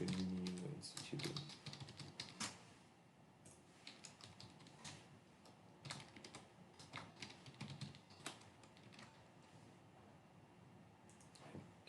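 Computer keyboard keys tapped in uneven bursts, close and fairly soft, with short pauses between runs of clicks.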